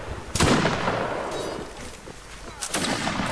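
Muskets fire in a Napoleonic line-battle video game. A loud, close blast is followed by fainter distant shots and a later pair of cracks, each trailing off in a rumbling echo.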